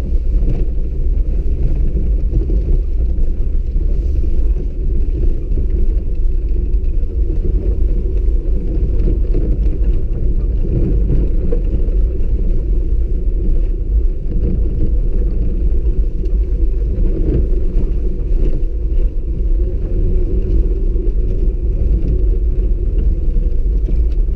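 Interior of a 1992 Citroen ZX 1.4i driving over a rough, bad forest road, a steady heavy low rumble with constant road and engine noise throughout, no talk.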